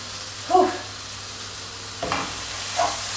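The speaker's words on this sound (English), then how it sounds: "we're just going to fry the courgettes a tiny little bit more with the raisins" A pan of courgettes and raisins sizzles steadily at low volume while a utensil scrapes and stirs through the food a few times.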